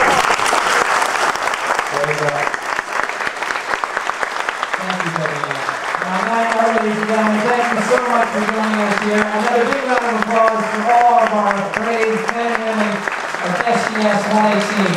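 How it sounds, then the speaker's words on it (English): Audience applause for the NASA Endeavour crew at Epcot's Mission Space, loud sustained clapping from a crowd, with a voice talking and calling out over it through most of the stretch. "We all have a round of applause."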